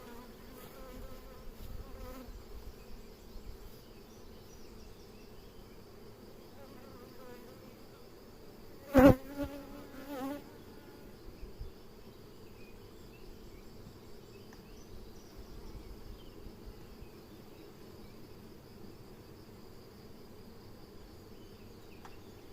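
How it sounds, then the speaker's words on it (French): Honeybees hum steadily around an opened hive while supers of acacia honey are harvested, a continuous low insect drone with one brief louder knock partway through and no talking. "moi j'ai des abeilles très douces."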